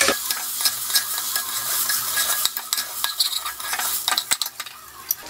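Jeera rice is stirred in a hot pan: a steady scraping, sizzling rustle of grains against the metal, close and fairly loud, with sharper utensil knocks toward the end and no voices.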